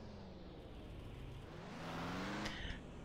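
Vehicle engine in the Ranch Simulator video game droning and revving as it drives, a low continuous motor hum that rises in pitch midway with a brief clatter near the end, quiet and steady.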